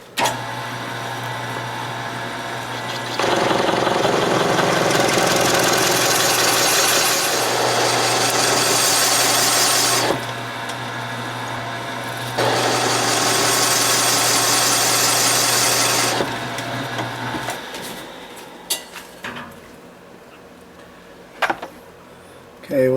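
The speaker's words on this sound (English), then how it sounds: "we have a little further travel to go with the mill in order to get down to the brass" A mill cuts a pen blank down toward its brass tube, giving two loud sustained bursts of grinding, whirring machining noise over a steady motor hum, then winding down to idle with a few clicks near the end.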